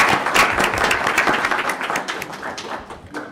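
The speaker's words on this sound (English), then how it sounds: "Let's give her a round of applause." A crowd applauds with dense, steady clapping that holds for a few seconds, then thins and fades toward the end.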